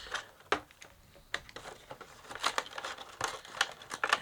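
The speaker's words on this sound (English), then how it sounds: "We cut along here. We cut along here. And we cut along here." Scissors snip and crinkle through packaging during a Christmas box unboxing, giving quiet, close, irregular cuts and rustles.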